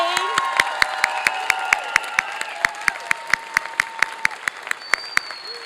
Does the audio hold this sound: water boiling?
no